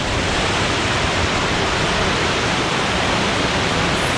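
Rushing creek water at the bottom of waterfalls in Pisgah National Forest on an icy day, a loud, steady broadband roar that fills the whole clip with no pauses and no voices.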